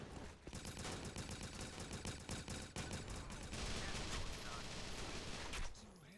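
Dense, continuous rapid-fire gunfire and explosions from the shooter game Repulse 3, loud and unbroken for several seconds before cutting off near the end.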